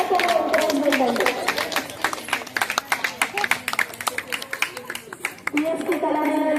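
Audience applause at a Ganesh Navaratri festival performance in Balasamudram, Hanumakonda, with many scattered hand claps over steady crowd chatter and voices.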